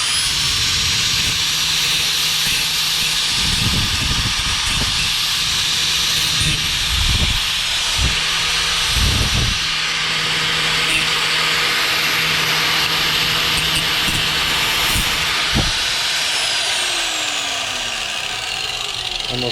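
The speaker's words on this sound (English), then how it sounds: "So that's your first step, is to cut the bolt off" A bolt is being cut off, giving a continuous, loud, hissing, grinding whine with a few low thumps and knocks underneath, heard up close.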